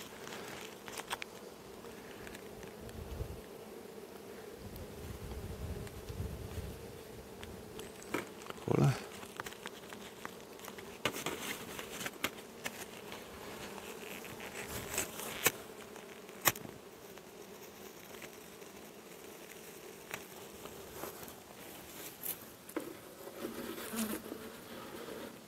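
Dense, continuous buzzing of many honeybees close by at an LR hive during varroa mite treatment, with occasional soft taps and rustles of handling.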